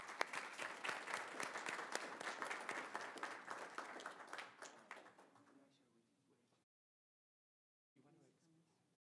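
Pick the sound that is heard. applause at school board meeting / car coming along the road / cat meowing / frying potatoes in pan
applause at school board meeting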